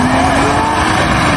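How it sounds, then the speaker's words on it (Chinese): A 3.0-litre Land Rover Defender grinds up a steep off-road slope, its engine a loud, steady, continuous drone with a rising tone, no voices. "美女司机驾驶路虎挑战绝望坡"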